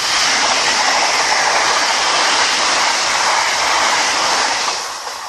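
A Class 365 electric train passes close by at Ashwell & Morden with a loud, steady rushing roar of wheels and air that fades slightly at the end, and no voices.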